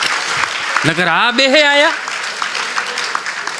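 Applause from a crowd at a live Gujarati comedy show, a continuous clatter running throughout while a voice talks over it.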